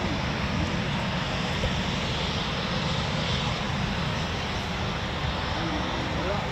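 Eurofighter Typhoon FGR4 jet taking off at night at RAF Coningsby: a dense, loud, continuous engine roar fills the whole clip with little variation, like a jet spooling at full power nearby.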